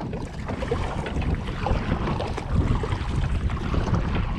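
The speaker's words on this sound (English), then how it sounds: "Oh, this is about 10 mile an hour wind." Wind of about ten miles an hour blowing over a small boat on the water while fishing for bass and bluegill, a steady loud rush and buffeting of wind noise with no talk.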